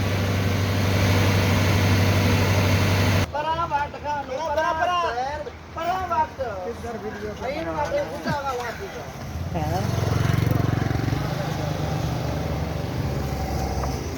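A Belarus 510 tractor engine runs with a steady low drone, first on its own and later again near the end, while people talk over it in the middle.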